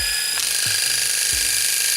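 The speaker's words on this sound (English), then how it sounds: "that's the sound of the trimmer going on." A steady electric buzz with a high whine runs throughout, the pop-out trimmer of a Philips Shaver 1000 S1332 humming continuously at close range, not very loud.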